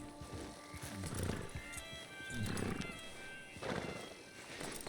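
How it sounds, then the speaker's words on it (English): A horse in Red Dead Redemption 2 snorts and shifts close by, with breathy blows, soft whinnying tones and hoof clops in three rising bursts over a quiet outdoor background. "We will hitch the horse here."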